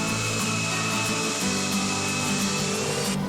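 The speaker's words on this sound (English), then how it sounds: "I'm still using my inexpensive Harbor Freight belt sander," An inexpensive Harbor Freight belt sander runs steadily on wood, giving a loud, continuous abrasive whir with a faint motor hum and no speech.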